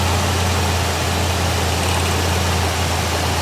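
The V8 engine of a 1966 Cadillac Eldorado idles steadily up close, a loud, even low rumble with a constant hum and no voices.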